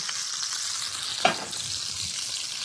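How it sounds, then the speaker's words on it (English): Fat sizzles steadily in a heavy cast iron skillet while beef short ribs cook, with one brief louder spatter partway through and no talking. "I'll go ahead and drain off some of my fat."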